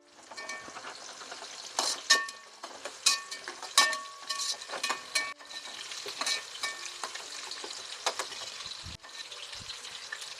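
Onions hit hot oil for a biryani and crackle with a close, busy sizzle, with stirring clatters and scrapes scattered through it.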